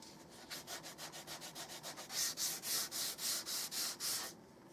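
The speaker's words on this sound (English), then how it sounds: "When I sand it all over. In other words, from here to here, I'm sanding." Hand sanding of a wooden Stevens Springfield rifle stock: a steady run of about twenty even back-and-forth strokes, close and crisp, growing louder in the second half, with no talking.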